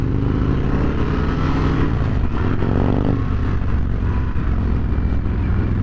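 A 2023 Harley-Davidson Sportster S motorcycle engine pulls hard through acceleration on a road ride, a loud, steady roar with rising and shifting tones under rushing wind, heard close from the rider's position.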